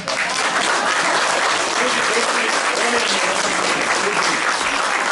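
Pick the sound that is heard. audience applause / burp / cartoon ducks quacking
audience applause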